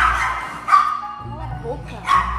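A dog barks and yips in short bursts at close range inside a home at night, with people talking loudly over it.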